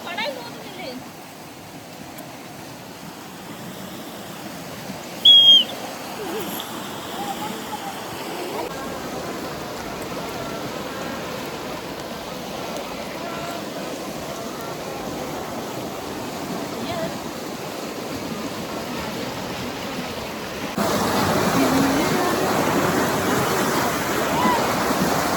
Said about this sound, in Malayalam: ഈ വെള്ളത്തിന്റെ സൗണ്ടിലേ നല്ല മഴ പെയ്യുന്നുണ്ട്